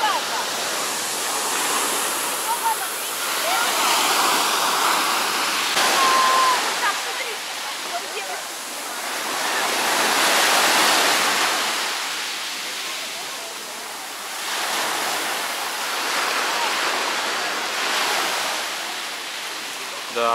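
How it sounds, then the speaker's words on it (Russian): Rough surf at Cleopatra Beach in Alanya, Turkey, roars in broad, rushing swells that rise and fall every few seconds, a steady wash of breaking waves with no voices. "сегодня, конечно, волны разбушевались"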